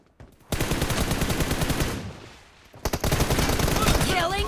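PUBG Mobile video game gunfire: loud, rapid automatic bursts, a brief lull, then another sustained burst of shots, with faint game sounds in the background.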